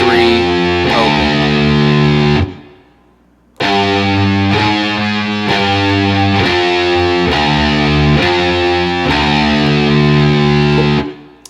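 Heavily distorted electric guitar plays an alternate-picked riff, with tight repeated picking and palm-muted chugs, loud and close, broken by a brief gap before the riff resumes.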